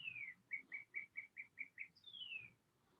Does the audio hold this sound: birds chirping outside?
yes